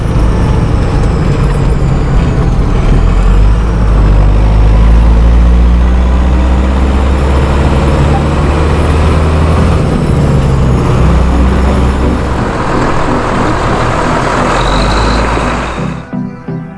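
A six-cylinder BMW car engine runs loud and close, a steady low drone with rising and falling tones as revs change, holding for the full length before easing off at the end.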